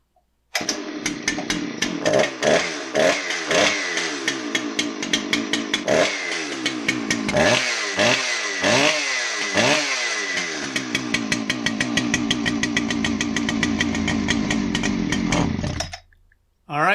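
A Husqvarna 394XP chainsaw with an adjusted metering lever height runs loud and close, revving in repeated sharp bursts before settling into a sustained high-pitched scream, then cutting off abruptly near the end.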